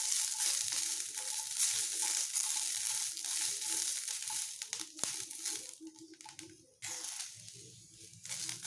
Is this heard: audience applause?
no